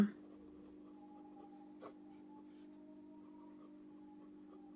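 Pen writing on paper in a workbook: faint, soft scratching strokes under a steady low background hum, with one brief tap partway through, close and without talking.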